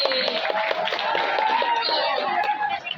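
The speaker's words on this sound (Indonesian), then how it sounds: "Tepuk tangan dong buat Rizky." Students in a school hall clap together in a dense, steady burst of applause with crowd noise, close and fairly loud, voices mixing in over the clapping.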